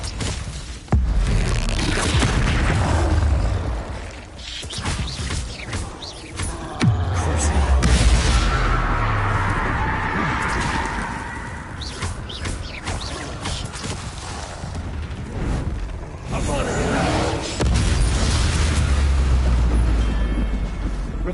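A Confringo blast spell explodes in Hogwarts Legacy, with loud booming impacts and rumbling bursts repeating over game sounds and a low drone, with no speech.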